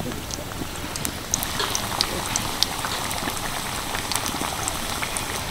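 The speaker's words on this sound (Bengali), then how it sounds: "চলুন এবার আমি এগুলোকে তেলে ভেজে নিই" Snacks fry in medium-hot oil in a pan, giving a steady soft sizzle and bubbling hiss with scattered small crackles and pops, continuous and fairly quiet.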